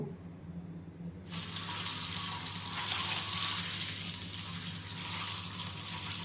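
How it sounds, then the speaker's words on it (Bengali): Spiced egg, rubbed with salt, chili and turmeric, lightly frying in hot oil for egg biryani: a steady broad sizzle that starts abruptly and continues loudly throughout. "এবারে ডিমটা হালকা একটু ভেজে নিব।"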